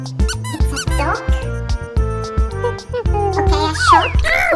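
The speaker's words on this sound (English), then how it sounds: "Can you see it? It's a dog." A cartoonish dog yips and barks in short, squeaky bursts at a video game animal clinic with a junior vet theme, loud and close over bright background music.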